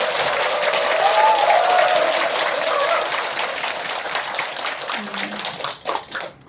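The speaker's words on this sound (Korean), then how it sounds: "먼저 주지 스님께 큰 박수를" An audience at Haengbok Seonwon, a Buddhist meditation hall in Busan, breaks into loud, dense applause for the head monk, sustained for several seconds before thinning out and fading near the end.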